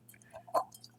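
Black Assam tea poured through a funnel into a mead jug, heard as a brief soft liquid splash and drip, close and fairly faint.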